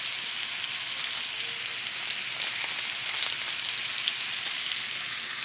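Garlic, onion and tomato sizzle steadily in a hot pan, a close, even crackling hiss with small pops and no talking.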